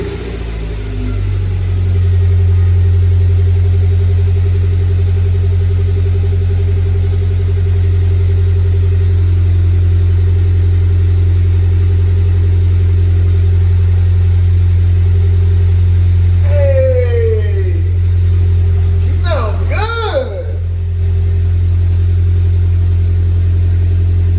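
A straight-piped Honda CR-V without a muffler, catalytic converter still fitted, idles with a deep steady droning rumble, then gives two short revs near the end, loud and close.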